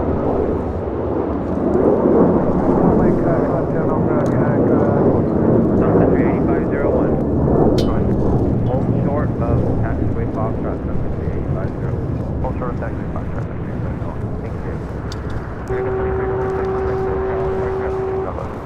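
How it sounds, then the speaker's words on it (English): An American Airlines Boeing 737-800 departs LAX for Raleigh-Durham, its engines building into a loud, deep rolling roar that swells and then holds steady, with a faint tonal hum near the end. "this is the flight heading to Raleigh-Durham on the 737-800 with the American"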